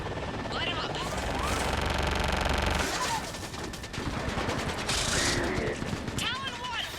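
Rapid automatic gunfire rakes ground targets in the Mass Effect game, loud and sustained with dense rattling bursts under radio-style voices and mechanical clatter.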